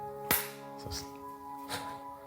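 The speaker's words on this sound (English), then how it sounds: "I'll do one uniform clap." In a quiet room with a steady hum, one crisp, loud hand clap snaps out, followed by a couple of softer, duller taps.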